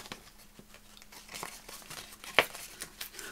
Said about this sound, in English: And tear it about there.